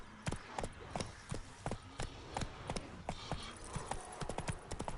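Roach, the horse in The Witcher 3 video game, gallops at a fast, steady pace. Crisp hoofbeats clip-clop close by in a quick, regular rhythm over a light background rumble.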